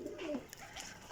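Flying pigeons of a young, freshly feathered lot give a single short rising coo near the start, a soft close call over a quiet background.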